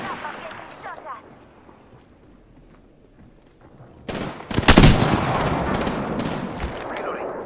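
Gunfire in Apex Legends: a loud, close burst of shots erupts midway and is followed by continued game noise, with a voice talking during the match.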